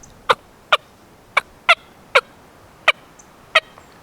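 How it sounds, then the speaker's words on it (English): Turkey clucks made on a mouth diaphragm call: seven short, sharp, evenly spaced notes, loud and close in a quiet room. "So for the cluck, we said tuk."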